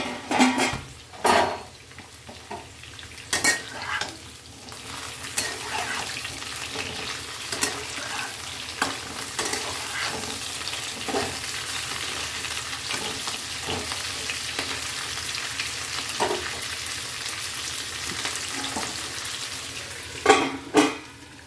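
A spice paste for Bengali steamed cauliflower fries in a pan under a continuous close sizzle, punctuated by repeated scraping and clinks of a utensil stirring against the metal.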